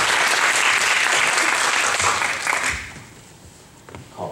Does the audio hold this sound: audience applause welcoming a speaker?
yes